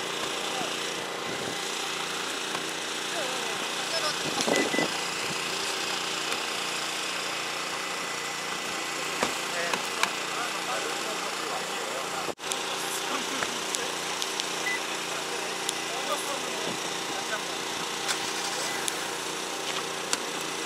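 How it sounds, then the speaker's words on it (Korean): A Hyundai Sonata DN8 2.0 gasoline engine idles steadily after a remote start, a continuous low hum with faint vibration, mostly alone with a brief soft click partway through. "원격 시동이 걸렸거든요"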